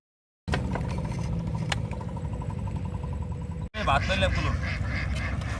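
Domestic ducks on a river char in the middle of the Tetulia river, a flock quacking loudly and continuously up close, with a short break and then a burst of more excited calls.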